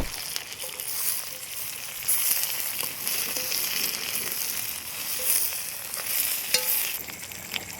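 A bunch of curry leaves crackles and sizzles in hot oil, a steady frying hiss with occasional stirring clinks, heard close and without talking.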